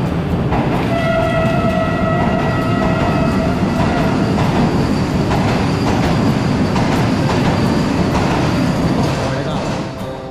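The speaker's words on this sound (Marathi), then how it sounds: "एक्झॅक्टली सुटलेली आपली ट्रेन दिवा सावंतवाडी एक्सप्रेस" The Diva Sawantwadi Express (10105) on the Konkan Railway rumbles along steadily from on board, with loud continuous wheel and carriage noise and a sustained horn-like tone, easing off slightly at the end.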